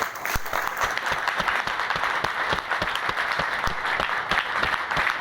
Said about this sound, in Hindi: सभी के लिए जोरदार तालियां बजाएं।